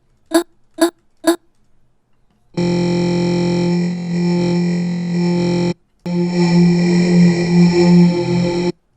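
Three short plucky synth hits from the Current synthesizer playing an imported wavetable, then a sustained buzzy, distorted tone that drops out briefly and returns with a grittier, brighter texture.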